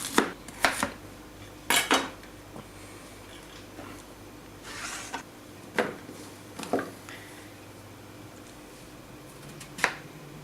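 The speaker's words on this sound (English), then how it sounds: "Next, we're going to cut the zucchini. We're going to cut some sweet potato as well." Knife cutting zucchini and sweet potato for couscous, heard as scattered sharp clacks and taps of a blade hitting a cutting board, with irregular gaps, close and fairly quiet, no talking.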